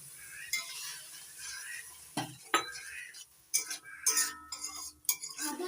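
A spoon stirs a spice paste of ginger, green chilli and tomato as water is added a little at a time in a pan, giving soft scrapes, light sizzling and occasional clinks in short bursts.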